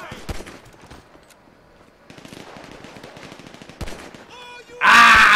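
Machine gun fire in Grand Theft Auto V, scattered bursts and single shots amid game action noise, ending in a loud burst.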